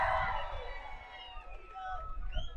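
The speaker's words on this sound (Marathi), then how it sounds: "एकदा जोरदार टाळ्या होऊ द्या रितेश दादासाठी." A large, excited crowd at a public speech event cheers and claps for actor Riteish Deshmukh, a dense roar of applause and shouts that starts loud and gradually eases off.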